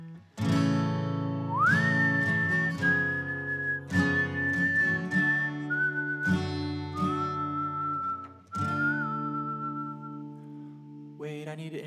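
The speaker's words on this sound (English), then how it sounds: "Let's get my whistle lips back." A person whistles a song tune over steady accompaniment, holding long smooth notes with small pitch glides, close and clear, with no speech.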